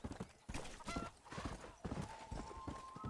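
Horse hooves from the Red Dead Redemption game clip-clop in a steady, close, brisk rhythm over a busy background, with no clear talking.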